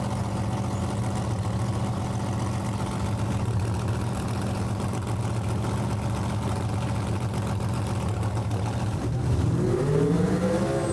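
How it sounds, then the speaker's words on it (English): A drag race car, a Malibu at a track, holds a steady loud engine drone for several seconds, then a rising rev surges near the end as the burnout begins. "And there's Troy with the burnout."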